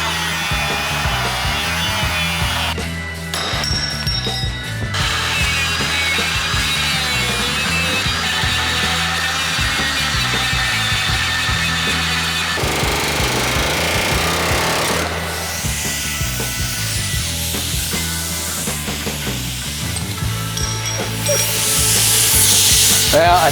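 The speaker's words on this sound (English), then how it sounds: "I got a little too aggressive with the air hammer" A pneumatic air hammer chatters loudly and steadily, cutting into the metal of a 1967 Barracuda, close up, with harsh metallic scraping over the rapid hammering throughout.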